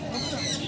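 A sun conure parrot at a pet market lets out a short, sharp squawk, close and fairly loud, over faint background noise.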